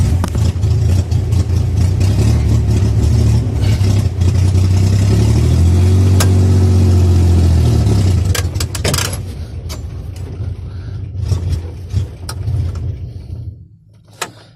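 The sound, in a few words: Chevrolet Corvair engine running for the first time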